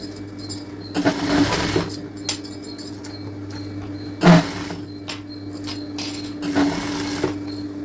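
Sewing machine running a joining seam on lined fabric for a baby girl's frock, in three separate bursts of rapid mechanical stitching, close and clear, with clicks between runs.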